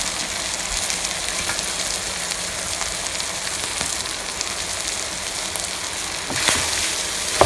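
Rice for restaurant-style Chinese chicken fried rice frying in a very hot pan: a steady, dense sizzle and crackle close up, with occasional scraping as it is stirred, and no talking.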